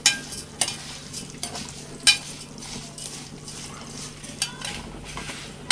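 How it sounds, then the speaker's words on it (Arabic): Vermicelli stirred in a pan of ghee and oil, soft frying crackle under intermittent scraping and clinks of a spoon against the pot, quiet and close with no voices. "هنحمرها هنا مع بعض اهوت."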